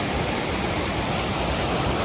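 A Grand Canyon creek fed by Thunder River Waterfall rushes in a loud, close, constant wash of flowing water with no voices over it.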